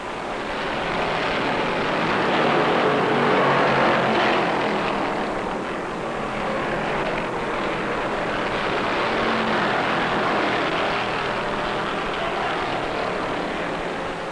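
Stock cars, among them a Hemi Charger, race down the back straight in the 1972 World 600, a loud broad engine roar that swells and eases slightly as the pack passes, steady and continuous with no talk over it.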